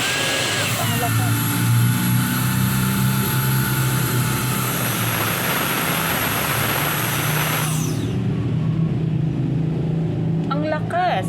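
A mini jet fan whirs at high speed with a loud, steady broadband rush and high whine for about eight seconds, then the airflow drops off into a lower hum while a voice briefly speaks at the end.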